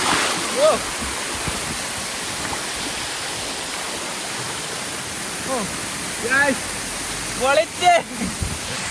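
Broadband rushing water from a waterfall in Thodupuzha, Idukki, roaring steadily and close throughout, with voices and brief bird-like calls briefly rising over the constant wash.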